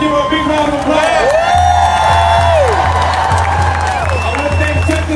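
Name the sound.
protest crowd applauding and cheering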